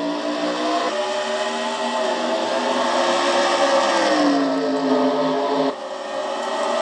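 Pack of race cars roaring off the start of a Castrol GTX Cup race at Bristol, a dense, steady engine drone with rising pitch as the field accelerates, loud and continuous with no talk.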